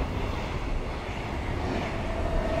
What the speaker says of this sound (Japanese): あ、電車なんだ。